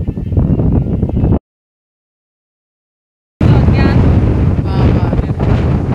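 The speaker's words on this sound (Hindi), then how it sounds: "दोस्तों, हवा बहुत चल रही है यहाँ पे।" A strong wind buffets the microphone in two loud bursts of heavy roaring noise separated by about two seconds of silence, with a voice briefly heard in the second burst.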